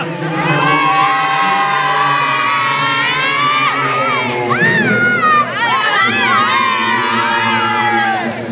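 A children's handball team shouts and cheers hurrah in a loud, sustained chorus of many high voices, rising in waves of whooping close by.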